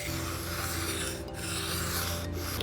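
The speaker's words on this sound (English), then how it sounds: "The second to last step on these knives is to sharpen them so they can actually cut something." Handmade knife blade sharpened on an abrasive, continuous gritty rubbing strokes with two brief pauses, loud and close with no voices.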